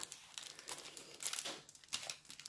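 Plastic zip bag holding diamond painting beads crinkling up close and quietly, in several short rustling handling bursts without any talking.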